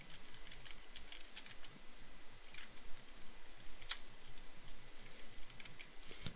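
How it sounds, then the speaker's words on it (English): Steady light typing on a computer keyboard, with quiet, even clicks of keys pressed continuously and close by, no talking. "I'm going to type this in here."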